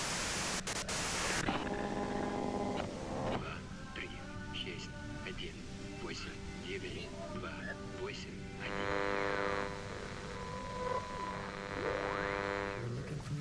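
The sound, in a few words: white noise static in video game Disco Elysium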